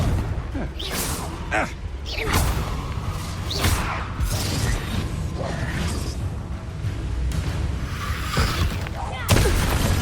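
Confringo spell blasts in Hogwarts Legacy: several sharp crackling bursts and booms spaced a second or two apart over game music and rumble, with a voice speaking among them.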